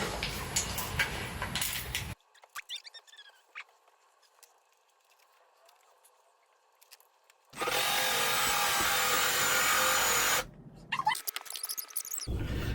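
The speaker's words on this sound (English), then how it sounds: "So I've drilled 2 holes." A power drill boring pocket holes through wood with a Kreg pocket hole jig while building a side table. Two loud, sustained bursts of drilling are separated by a quieter stretch of faint clatter.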